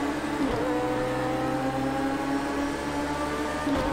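The engine of a 2017 BAC Mono race car in Project Cars 2 at Donington Park GP drones at a steady, high pitch, holding close and loud throughout, with no voices.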